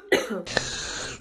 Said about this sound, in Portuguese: Eu ainda tô com essa tosse, mas vai sarar.